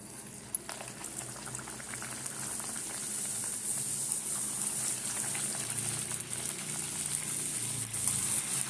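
Phuchka puris sizzling in hot oil, a steady bright hiss and crackle of frying that builds slightly louder over several seconds, heard close with no talk.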